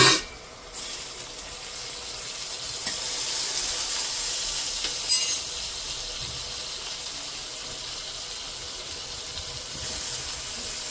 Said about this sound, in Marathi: या पॅनमध्ये मी थोडंसं बटर ॲड करणार आहे परत, आणि बाकी सगळे जे वेजीज आहेत आपले ते सॉटे करूया